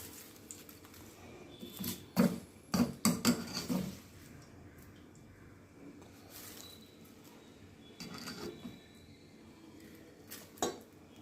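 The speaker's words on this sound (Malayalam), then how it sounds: "ഇനി നമുക്ക് എല്ലാം കൂടെ നന്നായിട്ട് മിക്സ് ചെയ്ത് കൊടുക്കാം" A utensil mixes fried lady's finger in a metal pan, a quick cluster of sharp clanks and scrapes followed by sparser, fainter clatters and knocks, with no voices.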